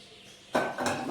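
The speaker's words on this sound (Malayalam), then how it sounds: "ചട്ടി വെച്ചിട്ട്" A metal pan set down on a gas stove, a single clanging knock followed by a shorter second rattle, close and abrupt after near silence.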